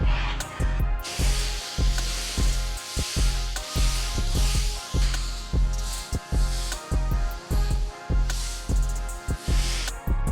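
A pressure washer's water spray rinses foam off a pre-foamed car, a steady hiss broken by brief stops as the wand is moved. No one speaks.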